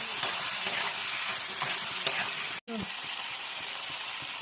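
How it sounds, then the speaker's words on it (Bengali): Poppy seed paste being gently stirred in a hot pan with oil, a steady sizzle with soft scraping strokes of the spatula, close and fairly loud, with a brief cut partway through. "পোস্তটা দিয়েও হালকা একটু নেড়ে নেবো, বেশি না, হালকা নাড়বো"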